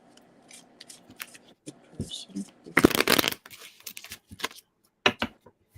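Tarot cards are shuffled by hand in quick riffling bursts, with a louder flurry midway and a few soft card taps, under brief quiet speech.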